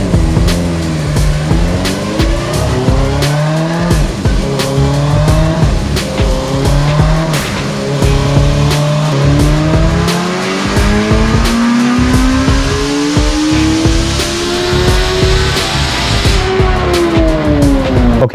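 A 2006 Suzuki GSX-R1000 motorcycle engine with a silencer installed, revving loud and steady through a warm-up baseline run, its whine climbing and dropping through gear changes with no talk over it.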